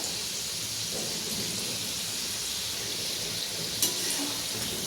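Karanji frying in oil over a low flame, a steady soft hiss and sizzle that stays even throughout, close by with no talking.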